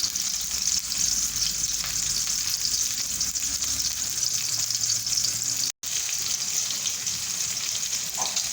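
Onions frying in a pan toward light golden, a steady hissing sizzle held close and even throughout, with faint occasional stirring and no talking.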